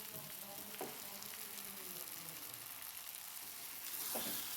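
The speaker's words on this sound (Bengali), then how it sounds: "এবার আমি এর মধ্যে জল দিয়ে দেবো" A quiet, steady sizzle rises from a pan of potato curry masala, with an occasional stir scraping through it and the hiss swelling louder near the end as water goes in.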